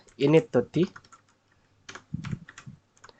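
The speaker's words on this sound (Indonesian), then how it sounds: "Jadi kita bisa ketikkan /etc init.d" Keys clatter on a computer keyboard as a command is typed into a Linux web server terminal, in short bursts of clicks, with a voice speaking in between.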